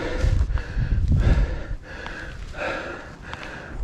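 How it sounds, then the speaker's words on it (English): Heavy, labored breaths while climbing a hill, close to the mic, a few loud gasping inhales and exhales in an uneven rhythm. "my obscene heavy breathing"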